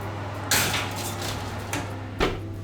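A baking tray of plain bacon slid onto a shelf of a fan oven, with a loud metallic clatter, a softer knock and a final clunk of the door over a steady low oven hum.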